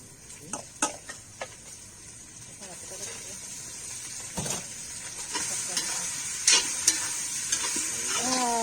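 Chicken fries in a pot over a wood fire for a chicken curry, making a rising hiss and sizzle with sharp spatula scrapes and clanks against the pot. A voice talks over the cooking.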